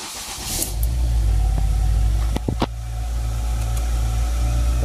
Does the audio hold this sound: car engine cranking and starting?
yes